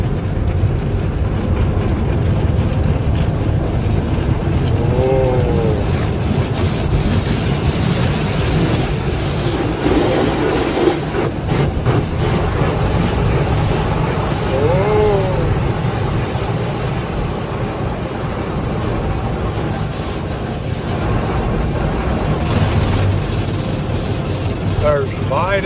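Inside an automatic car wash tunnel, machinery rumbles and clatters steadily over the car with a rushing, splashing wash, and people talk over the noise throughout.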